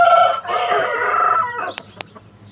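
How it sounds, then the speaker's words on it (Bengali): A home-bred aseel rooster crows one long, loud call up close, its strained cry falling away partway through, followed by a few short knocks and faint rustling. "এটা ঘরের বাচ্চা, কিন্তু ইন্ডিয়ান মোরগ না"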